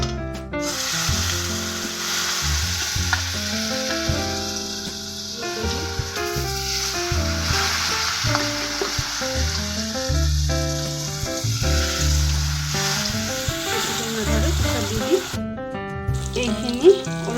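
White gourd slices frying in hot, smoking oil in a pan, a steady loud sizzle with crackles and occasional scraping as the pieces are turned.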